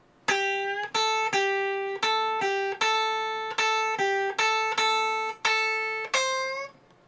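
An electric guitar plays a clean, sustained solo line, about ten distinct notes in a steady rhythm, some bent, each ringing until the next, with no voices.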